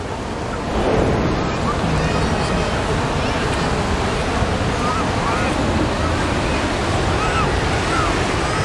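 Surf rolls in steadily on a white-sand beach in Gunung Kidul, a continuous broad wash of breaking waves with wind buffeting the microphone throughout.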